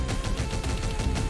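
A grenade going off in a first-person video game, a dense, continuous low rumble of blasts and gunfire-like crackle filling the whole moment, loud and close with no speech.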